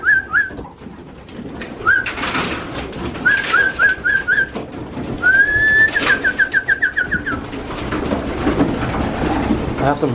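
Pigeons in an aviary, some of them molting, give repeated cooing and whistly calls in short bursts, set against a steady background of rustling and wing movement.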